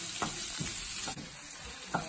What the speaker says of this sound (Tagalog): pwede natin ilagay yung bawang at saka sibuyas